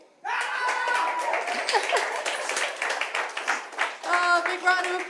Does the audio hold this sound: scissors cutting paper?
no